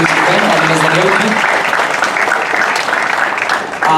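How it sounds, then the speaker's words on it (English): An audience applauds an event organizer at a mental health keynote talk, a steady, loud wash of clapping across the whole stretch with some voices mixed in. "let's give a big round of applause to Ali Raza for organizing this event"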